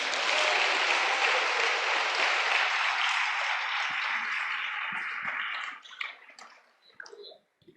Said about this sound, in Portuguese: Se você crê, aplauda ao Senhor.